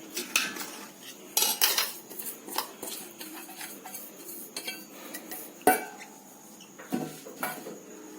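Mustard powder is mixed into amla pickle with a spoon in a metal bowl, producing an irregular run of close clinks, scrapes and knocks against the bowl with a few sharper clanks.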